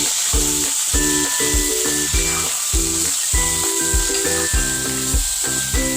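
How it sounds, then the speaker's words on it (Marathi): Onions frying in a pan with turmeric and chili powder stirred in, producing a loud, continuous close-up sizzle with steady hissing and no talking. "आता यामध्ये आपल्याला हळद घालायची आहे त्यानंतर आपल्याला एक चम्मच तिखट घालायचं आहे यामध्ये आणि छान परतून घ्यायचं"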